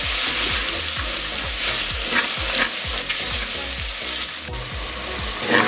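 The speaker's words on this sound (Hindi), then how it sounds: "1 टेबलस्पून भर के लाल मिर्चों का पाउडर, हाफ टी स्पून इसमें हल्दी ऐड कर देंगे। इसको 1 से 2 मिनट के लिए हम भून लेंगे।" Red chili powder and turmeric roast in a hot pan, crackling and sizzling close up with a steady run of scraping stir strokes for several seconds, no talk.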